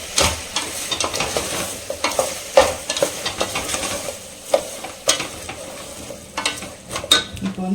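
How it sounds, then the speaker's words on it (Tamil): Ginger garlic paste sizzles and fries in a pan for a vegetarian lunch dish, with steady frying hiss under repeated scraping and clinking stirring strokes. "இஞ்சி பூண்டு பச்சை வாசனை போகிற அளவுக்கு வந்து குக் பண்ணிக்கலாம்"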